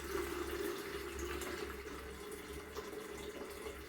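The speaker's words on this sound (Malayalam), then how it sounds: "നമുക്ക് ആദ്യം ഇച്ചിരി വെള്ളം ഒന്ന് ഊറ്റി കളയും" Boiling water drained out of a cooking pot, a steady close pouring rush of water that runs without a break.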